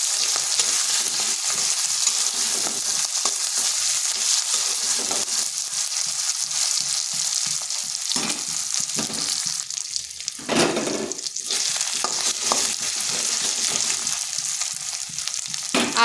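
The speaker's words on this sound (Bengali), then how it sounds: "একটু ভেজে নিচ্ছি যাতে আদা রসুনের কাঁচা গন্ধটা চলে যায়" Ginger garlic paste frying in hot oil in a pan, a loud continuous sizzle lasting throughout with occasional stirring and scraping, no talking.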